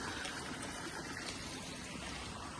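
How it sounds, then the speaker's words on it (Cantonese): A river runs beside a village house in Sha Kok Mei, Sai Kung, giving a steady, faint rush and trickle of flowing water with no voices. "有個河邊，我聽到有水聲啊"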